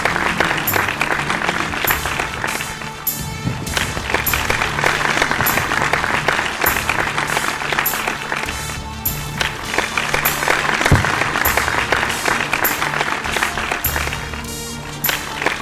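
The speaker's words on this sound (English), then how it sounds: "They all deserve a huge round of applause" Long steady applause from a crowd at a school Independence Day prize distribution, dense clapping with scattered footsteps and shuffling, carrying on for over fifteen seconds with little talk.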